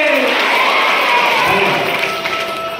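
An audience claps at a Shrimad Bhagwat Katha gathering, a dense, loud burst of applause from a crowd that thins slightly toward the end.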